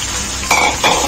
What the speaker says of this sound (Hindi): प्याज टमाटर के साथ हमने चिकन की अच्छे से भुनाई कर लेनी है